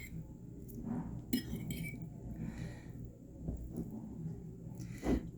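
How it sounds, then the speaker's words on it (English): Fried spicy ramen with chicken gets stirred in a bowl, giving quiet, scattered clinks and scrapes of a utensil against the dish, close but soft, with faint murmuring in between. "just like stir it all together"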